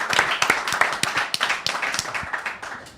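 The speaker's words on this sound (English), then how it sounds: "let's give them a round of applause." Audience clapping, sparse and uneven individual claps with a few cheers mixed in, fairly close and fading slightly toward the end.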